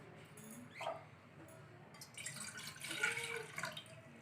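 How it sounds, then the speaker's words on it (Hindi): Two glasses of water are poured into a cooking pot or pan for boiling tomatoes, a faint splashing trickle with a brief drip early on and a fuller pour in the second half, quiet and close. "तो हम एक पतीले में या पैन में 2 गिलास पानी डाल देते हैं"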